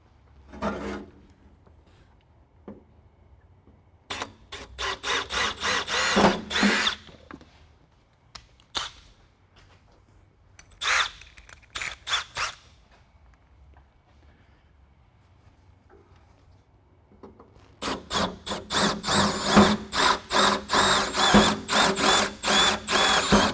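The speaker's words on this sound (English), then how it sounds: "So we're going to drill this" An electric drill whirs in several bursts, spinning up and grinding into material while drilling a bracket mounting hole, with quiet pauses and a long, loud final run.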